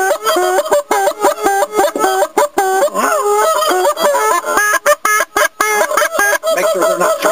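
Dense, overlapping goose honks from a large flock flying over a hunt, loud and continuous, with harmonic calls stacking throughout and brief gaps near the end.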